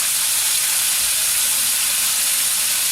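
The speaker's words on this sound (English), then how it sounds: "I'll just mix it in with curry powder, and then when we fry that together" Curry powder and garlic frying together in a pan, a loud, dense, continuous hiss of sizzling oil, steady and close with no talk.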